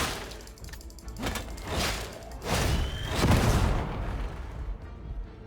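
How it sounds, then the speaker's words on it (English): Krak grenade blast in the Warhammer 40K Darktide video game: heavy, rumbling booms swell over a busy, noisy game backdrop, peaking loud and broad before fading out, with no talking. "and then I'll crack grenade"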